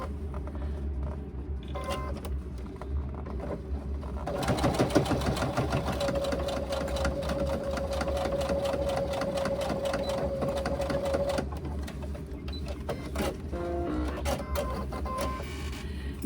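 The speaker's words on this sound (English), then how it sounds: "we are going to sew with a 3/8 inch seam" A sewing machine sews the lining of a laptop bag in one sustained run of rapid rhythmic clatter and whine, with quieter handling noises before and after.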